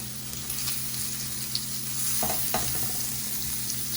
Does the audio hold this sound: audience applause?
no